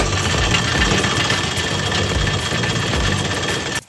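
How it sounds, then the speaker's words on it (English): A mine hoist winds a metal cable onto its reel underground in a mine, giving a loud, steady mechanical rumble with vibrating engine-like drone that holds throughout, then cuts off abruptly at the end. "There's a metal cable that has a reel. You can make it wind up or let it out with your direction."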